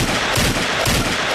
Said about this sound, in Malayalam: സാറേ ഇവന്മാര് വെടി വെക്കുന്നു.